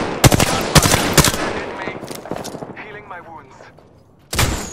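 Rapid bursts of automatic gunfire from the Apex Legends battle royale game, several sharp loud volleys early on, then a lull with fainter mechanical whirring before another loud shot near the end.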